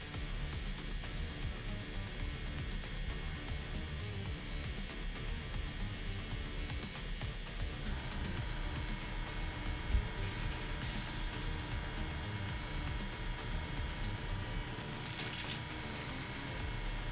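An airbrush sprays paint with a faint, continuous hiss, its needle acting up, the airflow wavering slightly in intensity over a long stretch with no talking.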